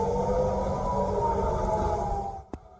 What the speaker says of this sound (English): Sirens ring out in Tel Aviv overnight.